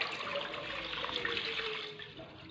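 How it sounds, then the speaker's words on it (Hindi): Milk is poured into a cooking pot set on a stove, a steady, soft liquid gush and splash that runs continuously before easing off at the end. "अब हम पतीले को रखेंगे चूल्हे पे और इसमें डालेंगे दूध"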